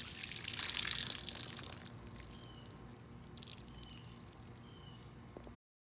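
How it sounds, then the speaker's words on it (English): Water from a leaking 30-year-old outdoor spigot splashes and trickles at first, then settles into a quieter steady dribble with occasional drips, heard up close with no voices. "there is a leak at the spigot"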